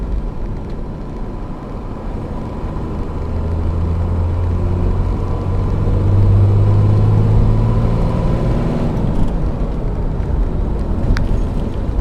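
12-valve Cummins diesel engine with an AFC running up at wide open throttle, a deep rumbling drone that builds in loudness and pitch then holds steady, close with no talk.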